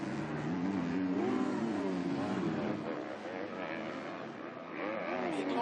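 MX2 motocross bikes race through a qualifying round in France, engines whining and revving steadily as several machines pass, while a commentator talks over the noise throughout.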